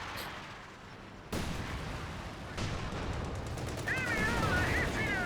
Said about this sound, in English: Incendiary barrage now barraging.